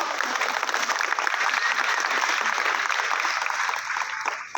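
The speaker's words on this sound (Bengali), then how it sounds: "ওনার জন্য একটা জোরে হাততালি হোক" Sustained, steady applause from an audience gathered for a film team's appearance at Nandan, dense clapping filling the room at moderate loudness before tapering off at the end.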